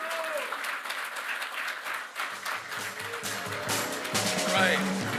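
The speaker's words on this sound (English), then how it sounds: "So do I get a big round of applause for Kamala?" A crowd at a carpenters union event in Scranton applauds loudly and continuously, clapping swelling toward the end with a few cheers mixed in.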